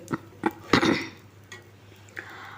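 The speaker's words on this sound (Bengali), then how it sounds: "আমি একদম ঝরঝরে করে এটাকে ভেজে নিচ্ছি" A utensil scrapes and knocks against a pan as rice is stirred and fried dry, a few clustered clatters then quieter taps, close and moderate, no voices.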